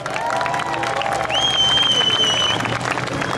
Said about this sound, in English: Big round of applause, a huge talent coming through.